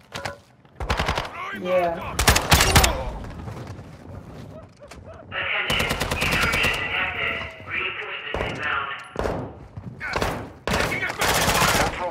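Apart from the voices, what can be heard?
gunfire in a video game (B21)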